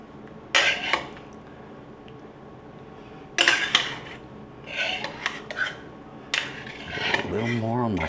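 Spoon scraping and clinking against a pan while sauce is spread for chicken with mushrooms, with several separate scraping bursts, some faint voice, and a low hum close by.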